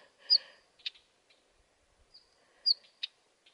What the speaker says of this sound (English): little bird trying to attract my attention.